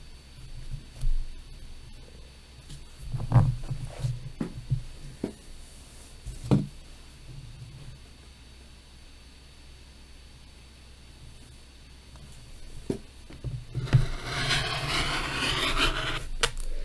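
Quilting fabric is cut on a mat, with scattered soft knocks and handling thumps first, then a sustained, rasping slice near the end, close and clear with no talking.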